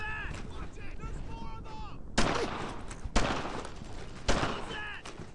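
Loud bursts of MG42 machine gun fire in the World War II shooter Brothers in Arms: Earned in Blood, three sharp broadband volleys cutting in after a stretch of quieter battle noise and faint voices.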